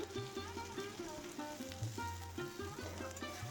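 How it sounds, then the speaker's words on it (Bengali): Potatoes fry with turmeric in a pan as they are stirred, making a quiet, low sizzle under a repeating tonal background tune. "এবার আলুর সাথে আমি ভালো করে কষিয়ে নেব।"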